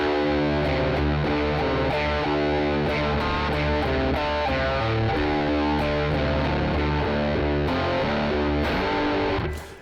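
Distorted blues electric guitar, played with a bottleneck slide through an effects unit, rings out loud and continuous with sustained, layered chords and steady picked attacks before fading at the end.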